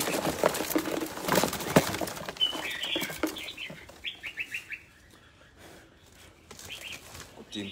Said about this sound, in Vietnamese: Chim to quá.